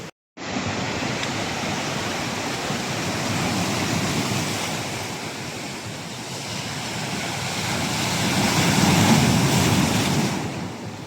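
Stormy sea surf roars continuously at a coastal fishing village during a storm, with wind buffeting the microphone; the broadband wash of waves swells louder toward the end, with no voices.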